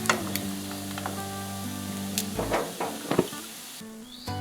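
Crispy fish pieces frying in a pan give off a steady close sizzle over a low hum, broken by a few sharp clicks and clatters.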